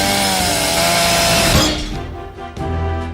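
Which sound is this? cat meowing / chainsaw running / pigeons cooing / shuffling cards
chainsaw running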